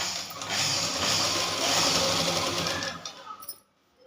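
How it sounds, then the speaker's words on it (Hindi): A sewing machine runs steadily while stitching the seam of a princess-cut lehenga blouse at the finishing edge, a dense continuous whir for about three seconds that stops abruptly near the end. "यहाँ पे फिनिशिंग के साथ हमें सिलाई लगानी है।"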